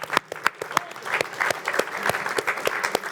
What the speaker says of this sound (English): A round of applause for those features